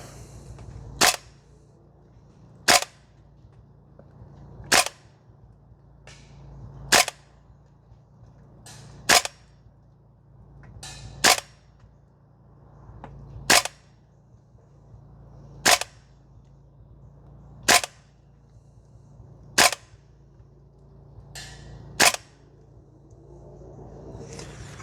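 Shots from a Guns Modify SCAR L MWS gas blowback airsoft rifle on a range, fired at low power on mags not regassed: about eleven sharp cracks at a slow, steady pace, close and alone over a low background rumble.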